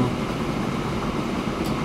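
Train rumble from the Transport Fever simulation game, an aging thirty-year-old locomotive in a worn state, running as a steady, loud, broadband drone with no pauses.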